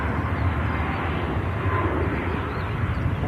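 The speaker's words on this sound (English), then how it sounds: "Ryanair climbs out." A Ryanair airliner climbing out from Manchester Airport, a steady broad jet roar at moderate distance holding evenly for a few seconds with no talk.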